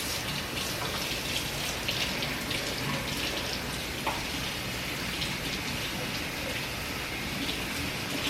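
Tap water runs steadily while canned low-sodium beans are rinsed, a continuous close splashing hiss with no breaks.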